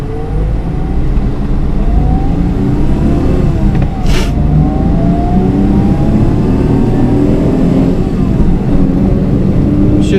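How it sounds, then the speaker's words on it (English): A 1993 Daihatsu Atrai van drives, with a loud, steady engine drone heard from inside the cab that rises and falls in pitch through gear changes, plus a brief thump partway through. "we're just gonna go do a real quick lap just to show you guys how this thing drives"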